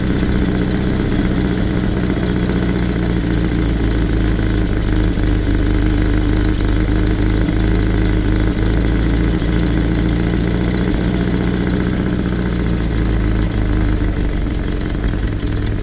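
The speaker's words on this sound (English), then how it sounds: "to me that sounds like a better speed for it to be running at" A Land Rover Series 2 engine idles steadily after its idle speed has been adjusted, a loud, close, continuous mechanical rumble with an even low throb and no voices.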